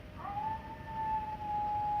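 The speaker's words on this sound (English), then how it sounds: "there's this coyote that's always howling outside" A coyote howls outside, a single sustained tonal call rising then holding steady for about two seconds over a faint background hiss.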